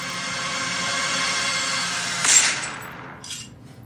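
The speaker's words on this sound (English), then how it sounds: "There's your gunshot." A single gunshot fired outdoors cracks out of a steady wash of background noise, a short sharp burst followed by a brief fading tail.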